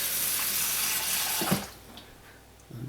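Water pours steadily from a tap into a soup pot for dissolving bouillon cubes, a loud continuous rush that cuts off midway, followed by a brief clink and quiet.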